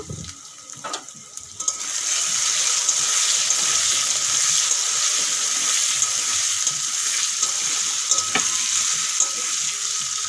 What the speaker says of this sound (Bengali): হলুদ আর নুন দিয়ে একটু আলুগুলো লাল লাল করে ভেজে নেব